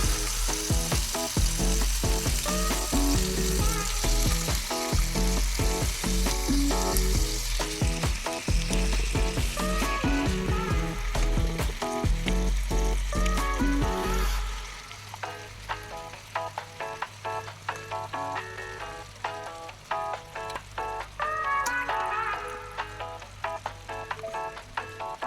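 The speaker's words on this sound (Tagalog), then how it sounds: "Yan guys, gisa-gisa muna natin" Chicken pieces sautéing in a hot pan for home-style chicken nilaga, loud continuous sizzling with frequent scraping stir strokes, the frying easing to a lower crackle partway through with clattering utensil taps.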